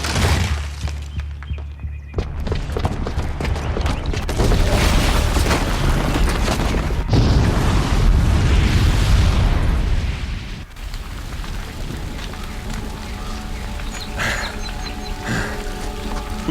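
A bomb explodes in Horizon Zero Dawn, a long, loud, continuous rumbling blast with debris and roaring noise that fills the scene, dropping to a lower sustained rumble near the end.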